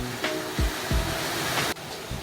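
Steady broadband rush of Yukdam Falls, the tall waterfall in the lower Towanggol valley of Seoraksan, heard up close and unbroken, with a few dull low thuds and a brief sharp knock near the end.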